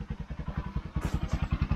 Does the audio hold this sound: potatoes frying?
no